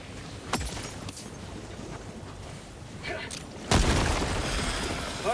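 A deep boom of an explosion in the video game Helldivers 2, a sudden loud blast near the end that rumbles and crackles away, following fainter thuds and gunfire-like pops earlier.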